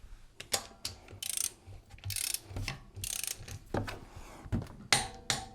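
A UYECOVE half-inch drive click torque wrench set to 90 foot-pounds being turned, giving a close series of sharp ratcheting clicks and metallic snaps in uneven bursts with short pauses between.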